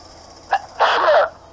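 A single sharp sneeze from a video game character comes after a brief intake of breath, clear and close over a quiet game background.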